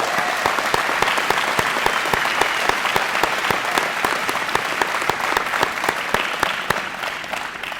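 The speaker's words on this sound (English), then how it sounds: "Let's give them a round of applause for that." Audience applause at a Perry Technical Institute graduation ceremony, a dense, steady wash of many hands clapping at close range that holds throughout and thins slightly at the end.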